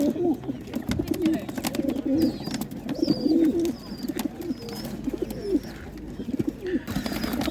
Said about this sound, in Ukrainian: Такі голуби.